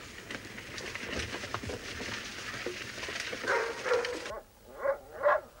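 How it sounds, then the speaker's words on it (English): Several dogs bark and yip at a distance, with a few sharp barks standing out near the end over a low background murmur. "The dogs. Confounded animals. Something's disturbed them."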